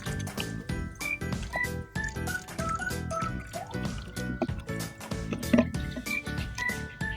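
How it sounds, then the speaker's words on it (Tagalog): Water is poured into a spray bottle while 500 ml is topped up to make a liter for an aloe vera foliar fertilizer, giving a close gurgling fill with small drips and clinks. "dadagdagan ko ulit siya ng another 500 ml para maging 1 liter yung ating tubig dito sa ating spray bottle"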